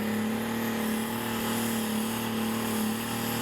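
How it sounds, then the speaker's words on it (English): Tractor pull at an agricultural show: a heavily loaded pulling tractor roars continuously and loudly close by, its engine note holding a steady, strained drone with no pauses. "This tractor is a bit of an animal."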